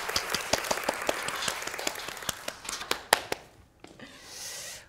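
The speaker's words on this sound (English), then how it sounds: "If we could have a round of applause for Angela." An audience applauds a guest speaker at a talk on regenerative medicine, with a few seconds of scattered, fairly sparse clapping that thins out and stops, followed by a soft rustle.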